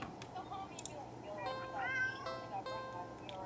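Several soft, drawn-out cat meows from a video game, faint and close, with some quiet talking mixed in.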